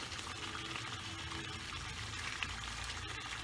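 Chicken boils in a pot for biryani, a steady, faint bubbling and simmering that runs evenly throughout without pauses or voices.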